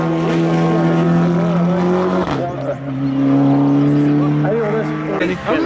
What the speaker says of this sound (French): véhicule sur la piste de Pascal, le 257, avec une autre Clio 3 Cup